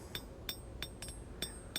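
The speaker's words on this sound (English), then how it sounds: "You can see how much that's bending as I hammer in the bevels." A hammer striking a steel knife blade while forging the bevels, giving five or six sharp metallic clinks at an irregular beat, faint and alone over a low room hum.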